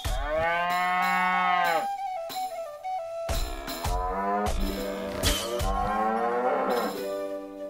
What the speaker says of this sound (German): Die armen Kühe.